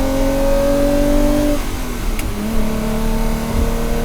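A Ferrari 330 GTC engine revs hard, its steady tone dropping and then climbing again, loud and close with no talk over it.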